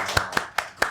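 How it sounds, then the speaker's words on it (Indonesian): A few hands clap four times in a slow, even rhythm, crisp and close, at a business talk event, each clap sharp and separate, with no voices. "Tepuk tangan dulu dong."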